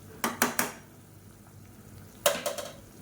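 Soaked rice goes into boiling water in a pot and is stirred, giving three quick metallic clinks of a utensil against the pot, a quiet pause, then another cluster of clanks, with a low simmer underneath.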